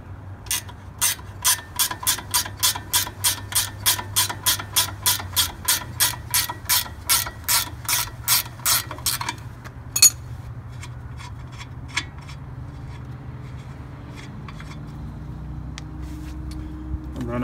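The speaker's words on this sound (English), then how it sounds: "This is an 18 millimeter, and we'll just ratchet it off here." Rapid, regular clicking of a ratchet wrench with an 18 mm socket loosening a shock bolt close up, a long run of even clicks, then a few isolated clicks and a clunk.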